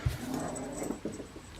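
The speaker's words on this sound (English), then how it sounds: "Can you hear him in the background growling?" A dog growls low in the background, in short uneven bursts with small whimpery sounds, faint and somewhat distant.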